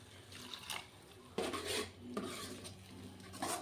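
Spice masala with turmeric, salt and a splash of water being stirred in a metal pot, with repeated scraping and clinking strokes in bursts, close and moderately loud.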